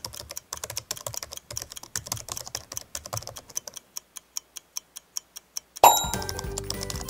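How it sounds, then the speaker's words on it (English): Computer keyboard keys clatter close up in quick irregular bursts, then slow to evenly spaced single clicks before a louder, different household noise cuts in at the end. "It's a keyboard."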